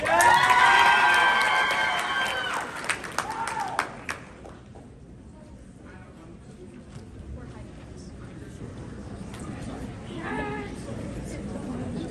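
Clapping and cheering from high school delegates at a student convention, loud at first with shouts and voices, then fading to scattered claps and murmuring chatter; someone speaks briefly near the end.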